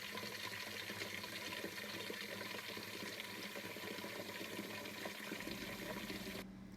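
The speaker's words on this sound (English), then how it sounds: "I'm going to fill it with cold water" Cold water running from a tap into a clear bowl in a kitchen, a continuous gurgling, splashing fill heard close, cutting off just before the end.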